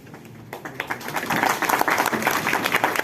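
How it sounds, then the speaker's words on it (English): Audience applause rises after a seminar presentation in a medical college hall, a dense, fairly loud wash of clapping that swells within the first second and continues steadily, with some voices mixed in. "Please give a huge round of applause"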